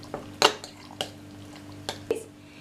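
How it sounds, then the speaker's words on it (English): Seasoning with black pepper being mixed in a bowl for a chicken wrap marinade, heard as a few scattered close clinks and soft squishy stirring sounds against a quiet background, without speech. "Just add it in there, and then I'm just going to mix it together."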